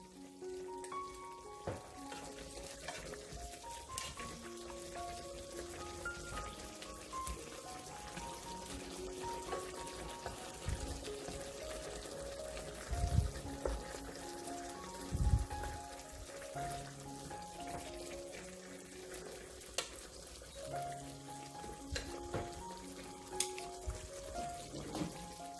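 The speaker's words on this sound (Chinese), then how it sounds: "小火炆佢五分鐘先，五分鐘我哋再反一反佢。" Chicken drumsticks simmer gently in an onion and tomato sauce over low heat, giving a soft, steady bubbling sizzle that runs the whole time under a layer of tonal background sound.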